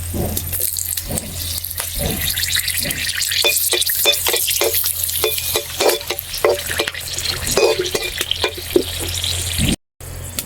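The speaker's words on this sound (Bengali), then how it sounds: "সাথে 4টে গোটা শুকনো লঙ্কাও ফোড়ন দিয়ে দিলাম।" Whole dried red chillies, cinnamon sticks and cardamom pods sizzle in hot oil, a steady close crackle and hiss broken by regular stirring scrapes throughout.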